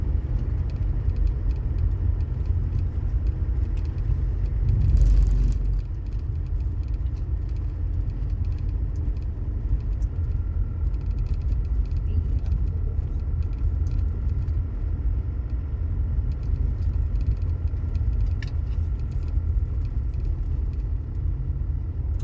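Car moving along a highway, a steady broadband road rumble with low engine drone continuing throughout at an even level, with a brief louder swell near the start.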